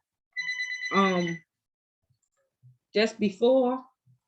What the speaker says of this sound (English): Sorry, I'm trying to mute this phone.